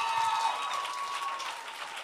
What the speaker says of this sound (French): Applaudissez, Frenchie.